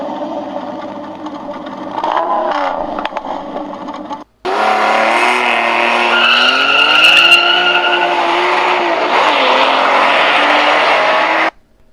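A Batmobile engine roars loudly, briefly cuts out, then surges back with rising revs and a tire squeal as it speeds away close by out of a back alley.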